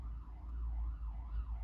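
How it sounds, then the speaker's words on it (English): An ambulance siren passes by, its wailing tone rising and falling in a steady, slow cycle over a heavy low rumble of traffic, fairly loud and continuous with no one talking. "There is an emergency vehicle going past."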